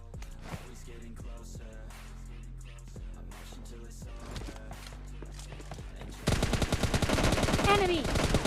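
Gunfire in a PUBG Mobile Lite squad fight: sparse sharp shots over game sounds, then a loud dense burst of rapid automatic fire near the end.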